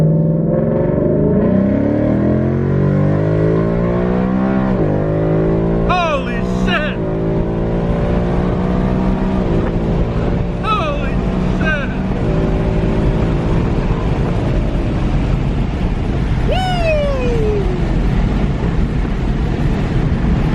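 A 2019 Ford Mustang GT with a JLT intake and Lund tune accelerating hard from inside the car, a loud engine roar climbing through the revs with several gear shifts, a person talking over it.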